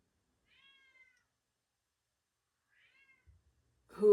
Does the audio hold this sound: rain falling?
no